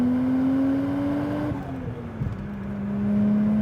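Toyota Chaser drift car with a single-turbo 1JZ-GTE engine revving high and then dropping off, a steady close drone that dips and recovers, with a brief crackle as the exhaust pops.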